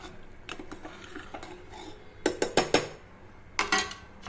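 A spoon stirs egg rice with salt and coriander leaves in a metal pot, with scattered scrapes followed by a few sharp clattering knocks against the vessel, close and without talk.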